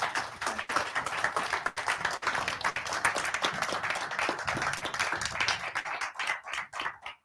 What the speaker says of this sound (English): Give Cath a massive round of applause.